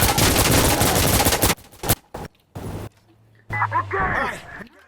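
Gunfire from the tactical shooter Insurgency Sandstorm comes in loud, sustained bursts at the start, then breaks into scattered short shots and pops mixed with background game noise and voices.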